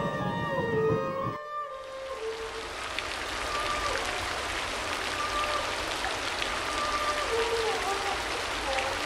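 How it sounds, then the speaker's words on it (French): Heavy torrential rain pours down as a dense, steady broadband wash that sets in after a brief opening of other sound, then continues loud and unbroken with scattered tonal bits. "Il se mit à pleuvoir des cordes."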